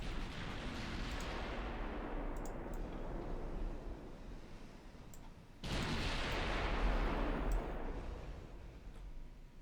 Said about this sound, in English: As my battleships continue to pound the enemy battleship.